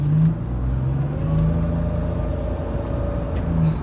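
Supercharged Monte Carlo SS driving along, its engine a steady droning hum with a thin whine running through it, close and continuous, briefly swelling near the start and end.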